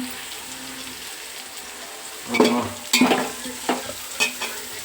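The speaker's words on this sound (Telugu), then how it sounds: "కరివేపాకు బాగా వేసి దాన్ని మిక్స్ చేయాలి" A spoon stirs curry leaves and coriander into chicken biryani masala in a pan, several scraping strokes over a faint low sizzle, close and unaccompanied by talk.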